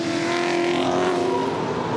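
Touring race cars including Ford Mustangs, Falcons and a Camaro scream past on the Hidden Valley Raceway track, a loud close engine roar with a sliding pitch as the pack passes, no talk.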